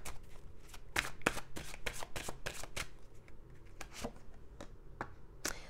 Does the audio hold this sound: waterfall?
no